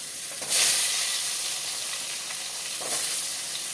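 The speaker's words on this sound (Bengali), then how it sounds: "আলুটা লাল লাল করে ভাজবো।" Potatoes sizzle steadily in hot oil in a wok up close, with two louder crackling surges as they are stirred or turned.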